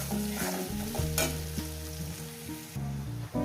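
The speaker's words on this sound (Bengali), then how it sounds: "দু মিনিট করে ভেজে নেবো পেঁয়াজটাকে" Sliced onions with salt fry in a pan and are stirred, making a continuous close crackle with soft scraping, layered under background music.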